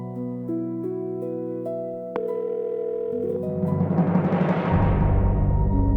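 An outgoing phone call: keypad-style tones stepping through pitches, a click, then a steady ringing tone that swells into a broad wash of noise, loud and close with no voices.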